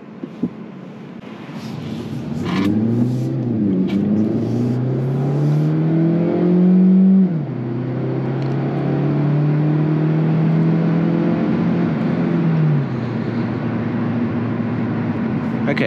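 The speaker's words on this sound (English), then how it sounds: "to the floor acceleration" A 2024 Hyundai Elantra Hybrid accelerates at full throttle, its engine droning and rising through gears with a sharp drop at each shift, steady road noise under it, heard from inside the cabin.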